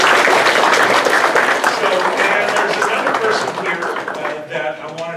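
Round of applause for an advisory board at a community gathering, loud dense clapping close by that gradually thins and fades out.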